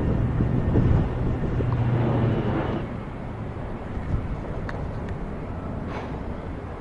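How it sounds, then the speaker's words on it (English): Strong wind blows outdoors on Okinawa Island, a loud, steady blustery rumble buffeting the microphone throughout, with no one speaking. "It's really windy out here."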